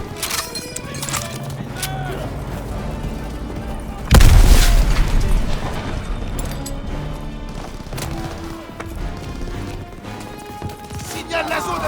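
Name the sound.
artillery explosions in video game Call of Duty WWII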